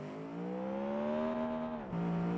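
Heavily modified Never Enough Samurai truck in BeamNG.drive accelerating hard, a loud, close engine whine rising in pitch over two seconds, dipping sharply at a gear shift, then pulling again.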